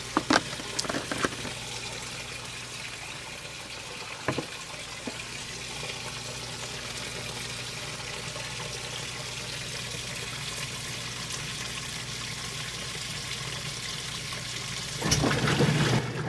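Water pours steadily into a 1994 Whirlpool direct-drive washing machine on a small load in a continuous hiss and trickle, with a few clunks at the start and near the end.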